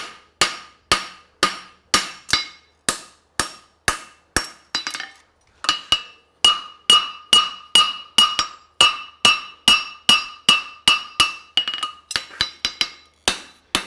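Hammer blows forge the heel of a hind preventer horseshoe, a long steady run of sharp metallic strikes, close and loud, with a brief pause partway and ringing clinks on many hits.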